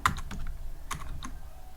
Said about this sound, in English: So I'm gonna type here